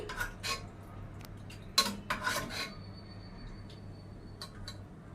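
Tomato and cucumber curry served onto a plate with a metal spoon, heard as faint scraping and a few sharp clinks of utensil against dish, quiet and close with no talk.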